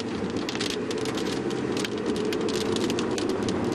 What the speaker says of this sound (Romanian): Când deja a început să plouă